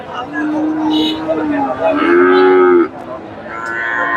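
Cattle low repeatedly at a busy Bogura cattle market, with several long, loud moos close by and faint crowd noise behind them.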